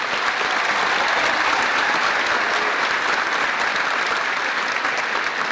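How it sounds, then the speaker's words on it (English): Graduation audience at Eau Gallie High School's 2019 ceremony applauding the graduates, a dense, steady wash of many hands clapping that stays loud and even throughout. "I want to give them another round of applause for everything that they've done."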